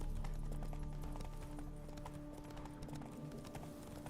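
A horse gallops in The Witcher 3: Blood and Wine, its hooves clip-clopping in a fast, steady rhythm throughout, with game sounds around it.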